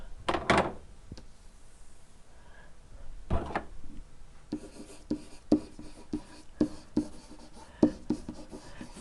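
Marker or chalk strokes on a classroom board during a circles geometry review, a run of short scratchy taps and squeaks near the mic, coming in bursts with pauses between.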